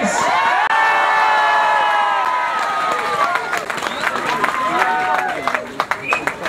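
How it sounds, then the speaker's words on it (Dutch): Crowd at a cyclocross race podium in Maldegem cheering and whooping loudly, with scattered applause and shouts building into a sustained roar, a public-address voice audible amid the noise. "Dames en heren, een warm applaus en op een ovatie voor Sven Nys."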